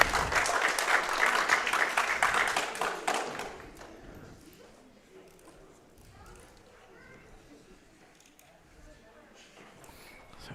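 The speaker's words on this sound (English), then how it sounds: "So round of applause for ISIS for that massive achievement there." An indoor crowd at a New Zealand secondary schools weightlifting championship gives a loud burst of applause for a junior champion lifter. The clapping lasts about three seconds and then fades into quiet room murmur.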